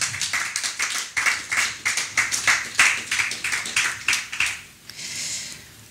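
A church congregation clapping in acclaim at a French-language gospel service, with brisk rhythmic clapping repeated in regular bursts for several seconds, then trailing off into softer noise.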